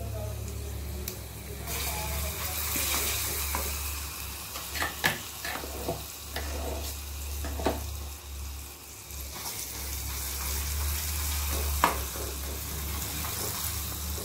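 Chutney hits a hot pan and sizzles steadily, a dense frying hiss with scraping stir sounds and occasional sharper pops, close and continuous throughout.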